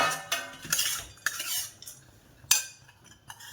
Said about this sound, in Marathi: भाजते आता